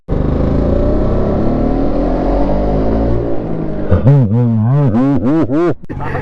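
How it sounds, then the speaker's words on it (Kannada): A Yamaha RXZ two-stroke motorcycle engine running after a kick start, first a loud steady idle, then sharp repeated revs that rise and fall close by. "ಆರ್ ಎಕ್ಸ್ ಅಲ್ಲಿ ಕಿಕ್ ಹೊಡೆಯೋದೇ ಒಂದು ಕಿಕ್ಕು ಗುರು ಎದ್ದೇ ಬಿಡ್ತು ಗುರು"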